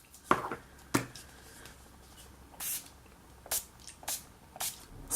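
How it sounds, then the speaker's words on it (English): Urban Decay setting spray misted onto a face in short bursts: a handful of brief, close hissing sprays separated by pauses, with no talking. "And next I'm going to go in with my Urban Decay Dislick Setting Spray."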